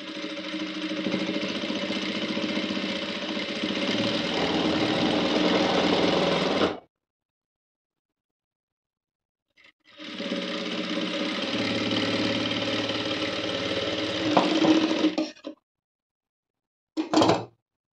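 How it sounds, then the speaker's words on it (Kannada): A sewing machine stitches blouse fabric in two long steady runs of about seven and six seconds, separated by a silent pause and followed by a brief final burst; the motor is close and even, with no talk. "ಆ ರೀತಿ ನೋಡಿಕೊಂಡು ಸ್ಟಿಚ್ ಮಾಡಬೇಕು"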